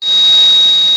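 A small electronic buzzer component powered by lithium batteries gives one continuous, loud, piercing single-pitch tone that starts abruptly and holds steadily throughout.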